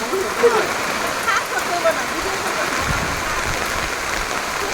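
Steady rain falls in a continuous broadband hiss with scattered drop impacts, a fairly even wash of sound throughout.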